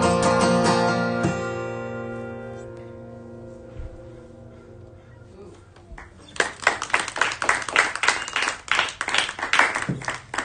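A small audience claps after a live folk song, with scattered, uneven hand claps building up right after the last guitar chords ring out and fade, fairly close and lively.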